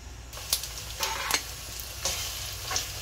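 Breakfast food sizzles and caramelizes in a hot frying pan, giving a steady close crackle with bursts of louder spitting as it is stirred, and no voices.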